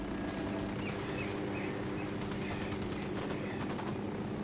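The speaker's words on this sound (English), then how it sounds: "I'm shooting these fuckers." Gunfire in the Ghost Recon Wildlands video game. Rapid, dense bursts of automatic fire sound fairly distant and faint, with faint bird chirps.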